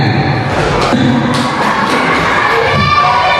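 Indonesian teachers' gathering audience claps and cheers in a loud, dense burst of crowd noise that runs steadily throughout, with some shouting voices mixed in.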